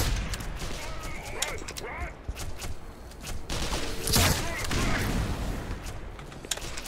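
Repeated gunfire from a weapon in the game Black Mesa, a dense run of loud shots and bursts with a busy game background, a brief voice heard at one point.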